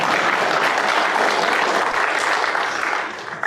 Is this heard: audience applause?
yes